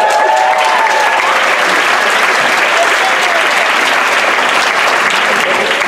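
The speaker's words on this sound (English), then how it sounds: "You don't have to do much to earn applause." A large audience at a Clark University event in Worcester, Massachusetts breaks into loud, continuous applause, a dense wash of clapping with scattered whoops that holds steady throughout.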